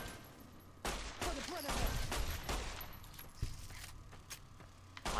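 Pistol gunfire in Fallout New Vegas, several sharp shots in an irregular rhythm over a steady game background hum, with other bursts and clatter mixed in.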